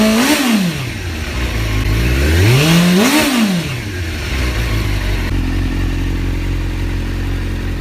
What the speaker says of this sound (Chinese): 谢谢大家听一下发动机声浪。